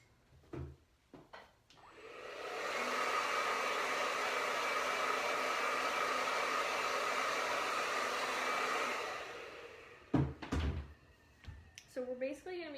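A hair dryer blows steadily for about seven seconds, drying paint on a hand-painted Christmas ornament, its broadband whoosh starting and cutting off cleanly, with brief handling knocks and voices before and after.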